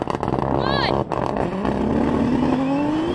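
Porsche 911 Turbo S launching in a drag race against a GTR, a loud roaring engine rising steadily in pitch as it accelerates, with people talking over it.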